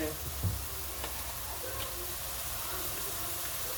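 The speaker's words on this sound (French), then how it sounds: "les oignons ils sont dans la poêle en train de..." Onions sizzle in a frying pan in a steady, close, even hiss of frying that carries on without a break, with a light clink near the start.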